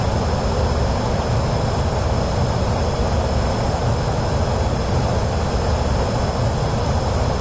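Pilatus turboprop engine droning steadily in Microsoft Flight Simulator 2024 on PS5, a loud continuous broadband roar with a faint high whine running throughout, no voices over it.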